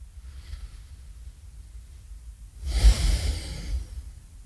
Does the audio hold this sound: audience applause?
no